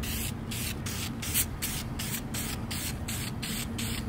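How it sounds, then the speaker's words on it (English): An aerosol spray can hisses in a rapid series of short bursts, loud and close, with a steady background rush and no voices. "So, let's go spray the shoes real quick."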